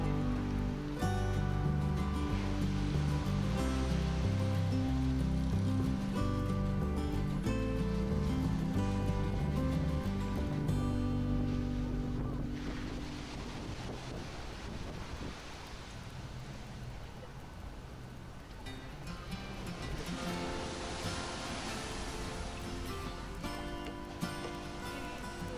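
Calm ocean waves washing onto a beach at Punta del Este, Uruguay, a soft continuous wash and fizz of surf behind louder tonal background sound that fades partway through.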